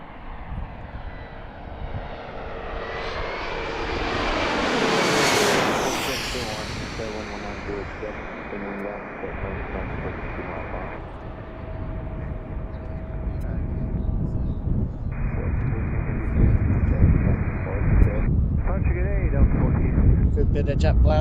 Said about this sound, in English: Good bit of jet blast from that one.